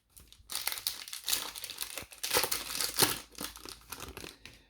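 A Yu-Gi-Oh card booster pack's foil wrapper is torn open and crinkled up close, loud bursts of crackling plastic in uneven waves before it goes quiet.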